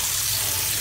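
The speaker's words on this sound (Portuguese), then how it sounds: "E agora eu vou fazer o teste da torneira pra vocês verem." A single-lever faucet runs steadily during a test, giving a continuous close hiss of flowing water that stays even throughout the short moment.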